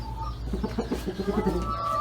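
Brahma chickens, including a splash-colored rooster, cluck in a steady run of short, rhythmic calls close by in a farm coop, with a continuous low hum beneath.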